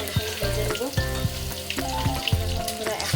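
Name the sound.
onion pakoras deep-frying in oil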